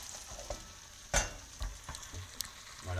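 Salted butter caramel cooking in a pan back on the heat gives a soft sizzle with scattered stirring scrapes and clinks of a utensil against the pan, close and fairly quiet.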